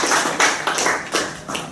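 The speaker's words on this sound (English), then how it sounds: "let's first give her a round of" An audience at a Chicago public school event claps, a steady, fairly loud round of applause with sharp clustered hand claps throughout.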